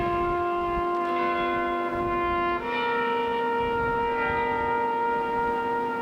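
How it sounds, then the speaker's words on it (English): A sustained, loud tone with steady harmonics rings at Arlington National Cemetery, shifting pitch once midway, consistent with a bell tolling during a memorial visit. "Shattered by the tolls of another bell and a single trumpet playing taps."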